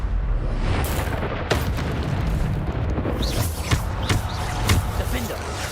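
Repeated Bombarda spell blasts in Hogwarts Legacy land as booming explosions, several heavy bursts and thuds piling up over a constant din of combat effects, with a voice calling out spells over them.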